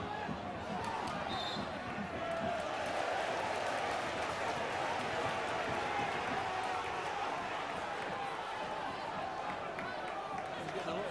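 A football crowd in a Stockport County versus Wycombe Wanderers League Two playoff semi-final second leg, a dense, steady roar of voices filling the stadium for the whole stretch, with no single call standing out.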